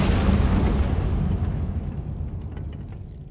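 An Incendio fire spell cast in Hogwarts Legacy makes a loud, roaring whoosh of flame that starts at full strength and slowly fades over a few seconds, with no talking.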